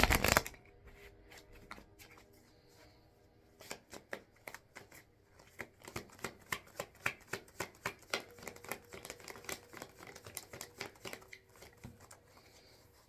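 Tarot cards being shuffled, heard alone: a soft rustle, then a long run of quick, close riffling flicks that builds to a steady rhythmic patter before easing off.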